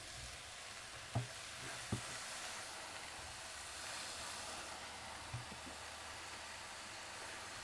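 Tomatoes go into a pan of frying onions, a soft steady sizzle broken by a few sharp knocks of the pan or utensil, fairly quiet with no talk.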